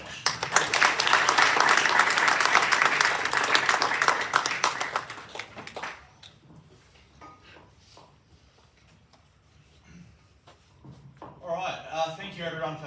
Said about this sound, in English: So if you please give a round of applause to Josh.